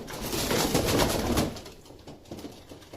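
A pigeon coos nearby in a soft, throaty burst that fades after a second or so, leaving faint chirps and low rustling in the background.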